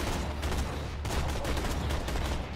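Dense, continuous gunfire from the Borderlands 2 video game, rapid overlapping shots under a low rumble filling the whole stretch, loud and close with no pause.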